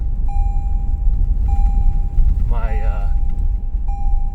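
A tonal seatbelt reminder beep, triggered by a power station on the passenger seat, chimes at regular intervals of about a second and a half over a low vehicle rumble, and someone speaks briefly in between.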